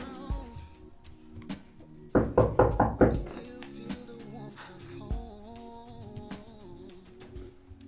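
A burst of about five loud, quick knocks on a door stands out clearly in a Nigerian drama scene. Scattered softer taps and room sounds come before and after it.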